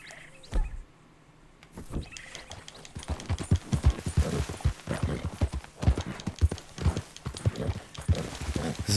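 Brisk clip-clop of horse hooves in Red Dead Redemption 2, close and rapid, starting after a short pause and continuing in a quick irregular rhythm.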